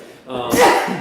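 A single sudden sneeze from a player at a tabletop Dungeons & Dragons game, loud and close, a short breathy burst lasting under a second.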